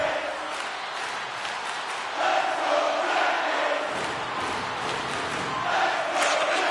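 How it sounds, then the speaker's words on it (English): Crowd noise in an NHL hockey video game arena, a steady roar of cheering fans that swells partway through and holds at a loud, continuous level with no distinct words. "You can feel the energy in this crowd."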